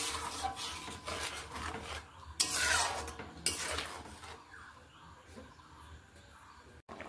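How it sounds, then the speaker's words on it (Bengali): Ghugni (curried peas) stirred in a metal cooking pot, with irregular scraping and clinking strokes of a spoon against the pot, close and moderately loud, with a couple of sharper knocks partway through. "নেড়ে নিচ্ছি।"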